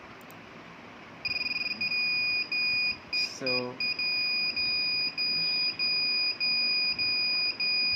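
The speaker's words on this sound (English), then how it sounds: "if that beep is coming because my transmitter is off" A Naze32 flight controller on a QAV210 quadcopter gives a loud, repeated electronic warning beep while its transmitter is off. The tones come in long, evenly spaced bursts, and a brief voice cuts in once.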